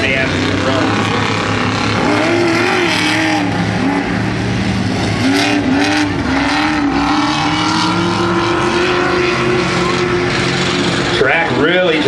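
Formula 4x4 off-road race car on a dirt track at an ERX Motorpark Midwest event, engine roaring loud and continuous with rising and falling revs, a commentator talking over it throughout.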